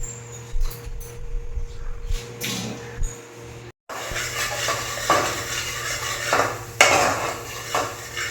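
A spoon scrapes and clinks against a metal pan in quick, uneven bursts as tomato and black cumin temper in fish-frying oil, with a faint sizzle underneath and a brief pause midway.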